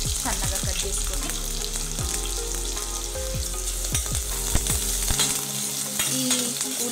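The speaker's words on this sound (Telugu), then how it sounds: "ఈ ఉల్లిపాయలు కొంచెం మంచి కలర్ వచ్చే వరకు ఫ్రై చేసుకుందాం." Two large, thinly sliced onions with cumin sizzle loudly in hot oil in a pan, a dense continuous frying hiss punctuated by repeated scraping stir strokes close by.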